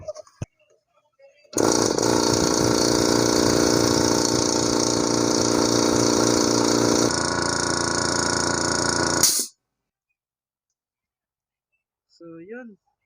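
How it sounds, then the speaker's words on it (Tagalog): A repaired air compressor runs on test for about eight seconds, a steady loud motor drone with a slight drop in pitch partway through before it cuts off. "So yun, working na po yung ating compressor."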